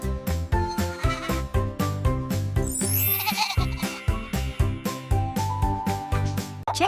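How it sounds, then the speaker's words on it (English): A goat bleats in a series of nasal, wavering calls set against a steady rhythmic musical backing that carries on throughout. "It's a goat."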